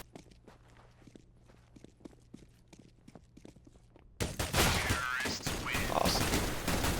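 Rapid gunfire from a first-person shooter match, including a P90 submachine gun, crackling as dense sharp shots over a low steady hum, then giving way to loud continuous broadband noise.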